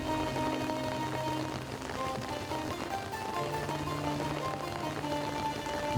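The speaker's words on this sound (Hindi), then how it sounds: "बारिश बहुत तेज हो गई है" Heavy rain pours steadily throughout a scene from a Pakistani drama, a dense, even hiss with sustained background music tones running underneath.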